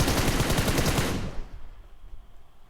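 Rapid automatic gunfire in the mobile battle royale game BGMI (Battlegrounds Mobile India), a loud continuous burst of shots lasting over a second before cutting off to quieter scattered sounds.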